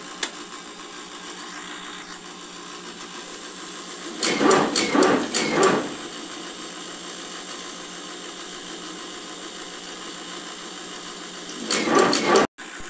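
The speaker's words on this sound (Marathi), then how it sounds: "आपण आता मशीन चालू करून स्टिक काढून घेऊयात." An incense stick making machine working premix powder runs with a steady mechanical hum, broken by two louder bursts of rattling and clattering, with no talking.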